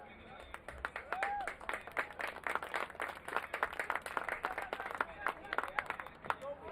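Scattered clapping from a small, distant crowd at a men's rugby sevens match, steady and uneven, with faint voices mixed in underneath.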